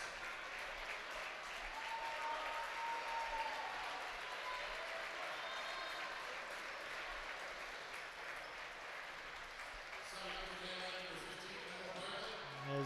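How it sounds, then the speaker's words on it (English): Crowd at a high school boys basketball game, Cadillac versus Mt. Pleasant, applauding the Vikings starters: steady, broad clapping and cheering fills the whole stretch, with faint shouts and sneaker squeaks mixed in. "As the Vikings get their starters a hand from the crowd"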